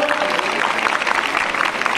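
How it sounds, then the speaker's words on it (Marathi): A crowd at a school sports felicitation ceremony applauds players being honored, a dense, steady patter of clapping from many hands, fairly loud and continuous throughout. "टाळ्या वाजवायच्या खेळाडू"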